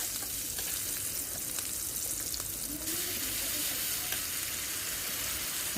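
Chopped onions fry in oil in a wok, giving a loud, dense, close sizzle that holds steady throughout with faint stirring scrapes.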